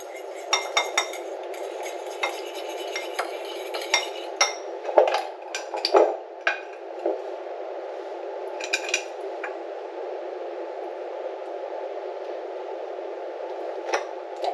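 A spoon stirs Christmas cookie dough made with maple syrup and a pinch of salt, knocking against the bowl in scattered light clinks and taps over a quiet hum, with no talking.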